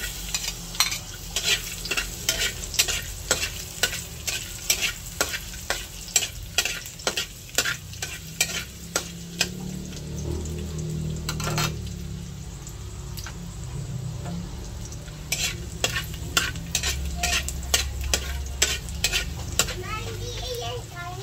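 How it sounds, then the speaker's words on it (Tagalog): Garlic sizzles in leftover frying oil for tokwa, with a steady crackle under rapid, regular scraping and clacking of a spatula against the pan, and a voice briefly heard in the background. "Ilalagay ko na po yung ricado, yung pong bawang."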